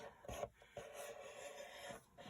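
A scoring tool is drawn along cardstock while making a Stampin' Up greeting card, giving a few soft, close rasping strokes separated by short pauses.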